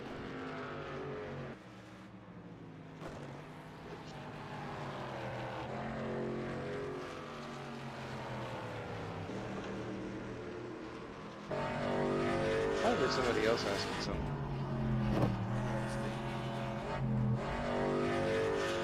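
Race car engine from a NASCAR Winston Cup 1972 racing game at Richmond, a steady droning, shifting engine tone running throughout and growing louder in the later part, with people talking over it.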